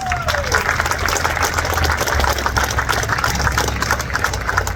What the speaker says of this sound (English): So that is worth a round of applause.